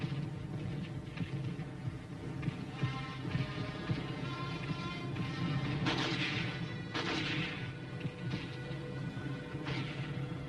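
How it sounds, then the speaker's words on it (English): Tanks and machine gun crews firing in combat, a dense, continuous barrage of rumbling blasts and cracking shots with sharper bursts around the middle, loud and unbroken throughout. "While tanks and machine gun crews lay down a blanket of fire to keep the enemy pinned down"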